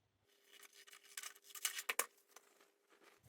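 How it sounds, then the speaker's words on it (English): Scissors snip through excess printed paper along a sewing pattern's guide lines, giving a few quiet, crisp cuts and rustles at close range with no talk. "cut off the excess"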